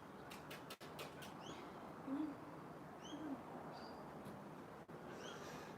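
A magpie mimics a kookaburra call in a quiet outdoor morning setting, with a few faint, brief chirping phrases and a low cooing note against soft background noise.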